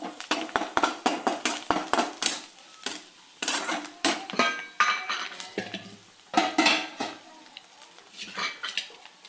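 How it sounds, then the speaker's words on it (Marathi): A spoon stirs masala and chopped green coriander in a metal pan, giving repeated sharp scraping clinks in a steady rhythm, close and fairly loud, with no talk. "मस्त मिक्स करून घ्यावं."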